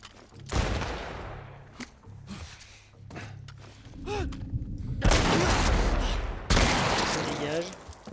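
Gunfire in The Last of Us Part 1 video game, several sharp shots and bursts spread across a tense combat scene, loud and close, with impacts, thuds and voices in the mix.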